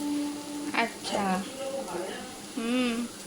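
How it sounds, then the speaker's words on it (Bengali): Onions fry in a pan for a home-cooked Bengali ridge gourd dish, a faint steady sizzle running underneath continuous talk. "পেঁয়াজটা এবার ভাজা ভাজা হয়েছে একটু।"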